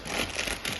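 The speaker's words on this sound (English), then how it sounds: "We've cut the sticker in half." Crinkling, crackly handling of a vinyl trailer sticker just cut in half, a continuous close rustle over about a second with no talk.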